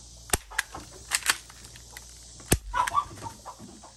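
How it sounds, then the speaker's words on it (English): A chicken clucking close by on a homestead porch, with short scattered clucks and sharp clicks over a quiet background. "There's a chicken 3 feet from me."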